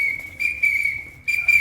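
A sports whistle is blown in several sharp, piercing blasts close up, loud and shrill with brief gaps between them.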